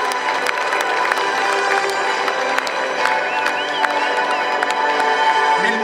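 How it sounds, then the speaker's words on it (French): Outdoor audience at the La Ferté-Alais air show clapping and cheering, a dense continuous wash of applause with scattered shouts, steady and fairly loud throughout. "merci encore pour vos applaudissements"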